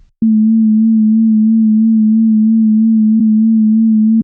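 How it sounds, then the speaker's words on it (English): A steady FM-synthesized tone generated in Python with a gentle, regular vibrato wobble in pitch, held evenly for about four seconds with a tiny glitch near the end. "A wobbling pitch or vibrato effect."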